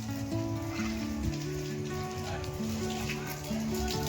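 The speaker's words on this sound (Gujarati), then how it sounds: "ઘણો બધો વરસાદ આવી ગયો છે" Heavy rain pours down during a Navratri garba night in a Gujarat village, a steady dense hiss that runs through the whole stretch, with loud festival music and voices playing over it.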